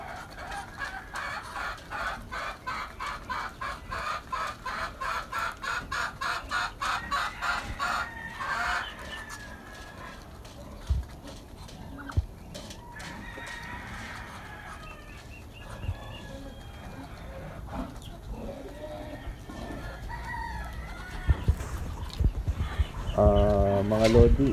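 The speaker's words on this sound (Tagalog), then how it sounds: "masaya siya habang pinapakain niya yung mga alaga naming bibi tsaka manok" Backyard chickens and ducks being fed, with steady clucking and occasional crowing close by, busy and continuous, while voices talk faintly in the background.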